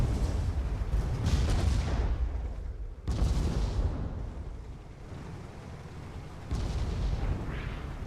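Muffled cannon fire rumbles through a naval video game battle, several deep booming salvos rolling one after another and fading between bursts.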